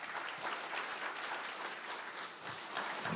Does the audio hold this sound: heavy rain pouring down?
no